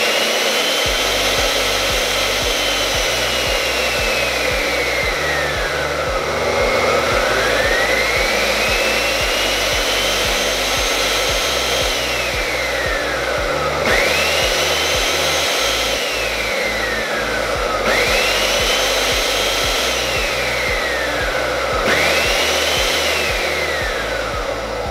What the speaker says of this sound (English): For demonstration purposes only, I ran this pump dry.